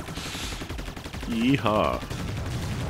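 Lemon's fully leveled-up spreader gun in Assault Android Cactus fires a dense stream of rapid shots, while game effects and a short voiced exclamation rise briefly over the continuous gunfire.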